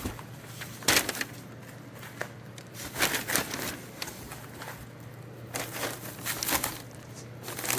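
Packing paper is crumpled and crinkled to line a box of Lenox Spice Village pieces. Bursts of crackling rustle come and go close by, with quieter handling between them.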